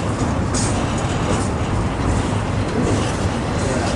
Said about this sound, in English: It's a long ass train,